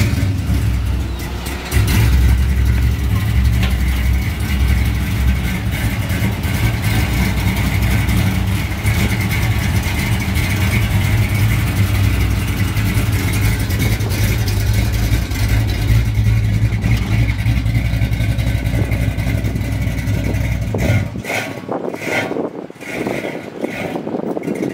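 A cammed LS-swapped Chevrolet C10 truck drives with a deep, loud, steady engine rumble for most of the run, then the note drops and turns choppier near the end, with no talking over it.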